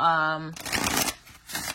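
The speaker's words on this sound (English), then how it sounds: "I can show you how they shuffle" Glossy, ungilded oracle cards riffled in a side shuffle: a close burst of papery flapping, then a shorter second burst, following a brief tonal sound at the start.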